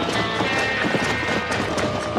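Horse hooves galloping in Red Dead Redemption, a busy, dense clatter of steady hoofbeats mixed with wind and game ambience, loud and continuous throughout.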